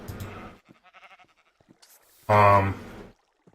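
A sheep bleats in the Minecraft Agrarian Skies modpack, one short loud game bleat standing out after quieter talk and scattered sounds.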